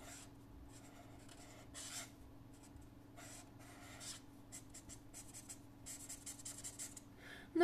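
Pencil drawing eyes and a mirror on paper, with soft, close scratching strokes coming in short bursts over a low steady background hum, with no talking.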